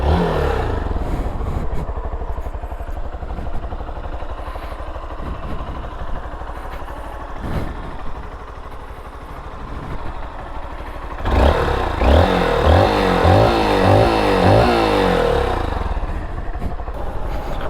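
Honda XR 190L FI dual-sport motorcycle, 2021 model: a close, loud engine idling with a choppy rumble, then revving up harder near the end.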